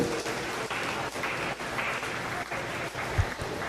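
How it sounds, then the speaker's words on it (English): An audience at a meat goat show applauds as the young exhibitors leave the ring. The clapping is steady and broad and runs through the whole clip, with a brief low thump near the end. "Let's give them a round of applause as they exit the ring."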